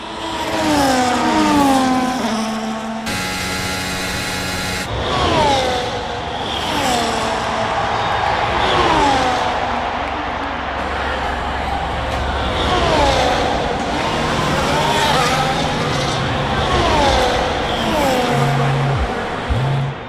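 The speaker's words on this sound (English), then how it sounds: "She found the space and Maya got the overtake done" Formula 1 race cars roar past in the F1 2025 racing game, engines whining and shifting pitch as they overtake in close succession, loud and continuous with a mechanical whir partway through.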